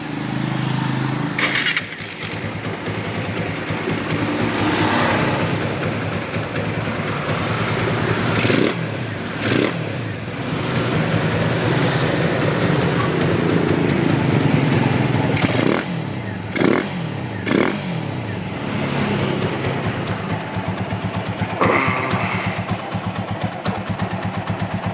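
A TVS Apache motorcycle, converted from injection to carburetor, runs steadily at idle close to the microphone. There are brief revs and clattery mechanical noise, with no talking.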